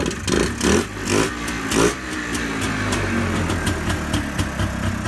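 A $500 Chevrolet Trailblazer engine runs just after starting, with a few throaty surges early on before settling into a steady, rumbling idle, close and fairly loud.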